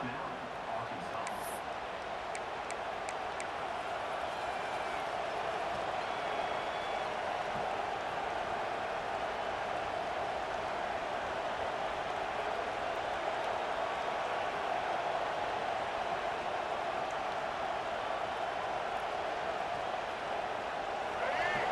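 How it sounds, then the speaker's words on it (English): A stadium crowd in the EA Sports College Football 26 video game keeps up a steady, dense roar that holds at one level the whole time, with no distinct cheers rising out of it. "listen to this crowd coming through"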